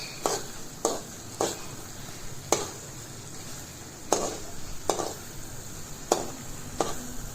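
Taro leaf greens sizzle in a pan while a utensil stirs and scrapes them in sharp, irregular strokes, about eight distinct clacks over a steady frying hiss.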